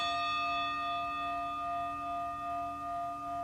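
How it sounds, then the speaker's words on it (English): Bells from a meditation app hold a steady, ringing chime whose tones sustain evenly throughout. The sound is quiet and smooth, with no talking. "Why are you ringing twice? I'm going to turn those bells off, maybe."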